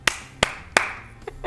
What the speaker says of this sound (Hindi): तालियां बजा के फोड़ दिए